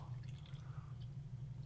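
White vinegar is poured into a paper cup as a faint, steady trickle under a low background hum, quiet and close.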